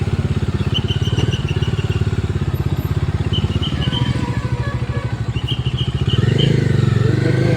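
Bajaj Dominar 250 motorcycle engine idling close by with a steady, throbbing thrum that swells louder near the end as it revs, with a few faint background noises.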